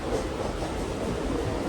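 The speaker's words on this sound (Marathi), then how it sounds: "तर ट्रेन चालली आहे आणि आपण बी निघालो आता दादर साईडला." A Mumbai local train, nearly empty, runs toward Dadar with a steady low rumble and rattle of the carriages, continuous and fairly close, without talk.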